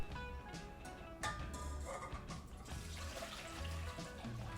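Hot tap water runs into a cooking pot for carbonara pasta, a soft continuous trickling and splashing at low level with no talk.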